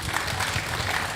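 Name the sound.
audience applause after a panel talk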